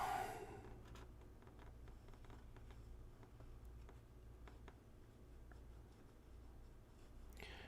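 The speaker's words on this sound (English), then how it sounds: "Nice scribing noise." A Sheaffer Legacy fountain pen with a fine nib scratches across paper in a steady, quiet scribbling stream of small strokes, close to the microphone.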